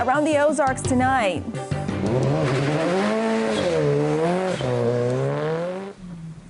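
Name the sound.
autocross race cars accelerating with tire squeal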